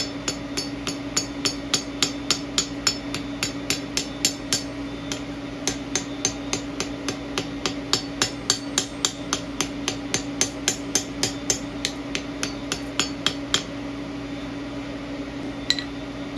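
A hammer strikes hot steel on an anvil while a tapered oval and stem are forged, giving a long, steady series of sharp metallic blows. The strikes are spaced at a regular rhythm, moderately close, over a constant low hum.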